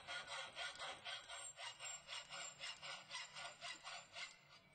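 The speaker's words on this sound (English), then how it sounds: "with a saw, cut the pipe lengthwise to a depth of approximately 1 inch" A hand saw cuts lengthwise into a pipe clamped upright in a vise, giving a steady back-and-forth rasp of about a dozen even strokes, close and alone.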